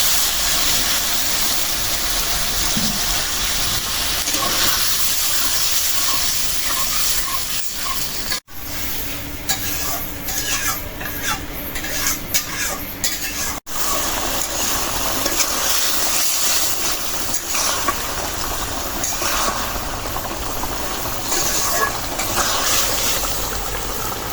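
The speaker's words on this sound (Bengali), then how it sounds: "মাছ এখন দিয়ে দেবো" Fish sizzles steadily in hot oil in a pan for a home meal, a loud continuous broadband fry with stirring scrapes, briefly cut off twice.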